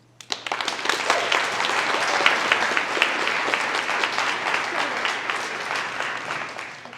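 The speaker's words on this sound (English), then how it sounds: "Let's do one more big round of applause for all 6 of those candidates." A large audience at a youth speech event claps loudly and steadily for the six speech candidates, a dense, sustained round of applause from start to finish with a few sharper individual claps standing out.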